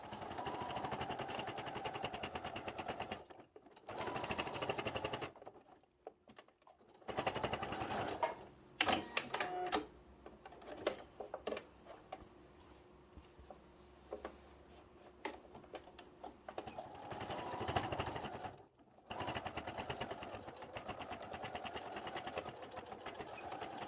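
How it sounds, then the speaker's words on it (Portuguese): A domestic sewing machine stitches the side seams of a fabric waist pouch, running in several bursts of rapid mechanical whirring with brief pauses and short reverse backstitch runs at the start and end of each seam, close and steady. "e vou costurar, ó. Vejo o posicionamento da minha agulha, dou retrocesso sempre no início e no final."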